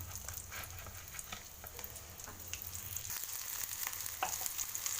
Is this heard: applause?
no